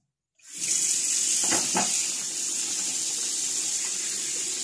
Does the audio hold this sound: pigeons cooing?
no